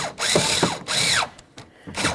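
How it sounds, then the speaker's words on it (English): Bolt started into the window regulator of a 2007-2012 Dodge Caliber, close, loud whirring bursts of a power driver in three pulses with brief pauses between them. "Once it's lined up, I'll go ahead and start in my bolt."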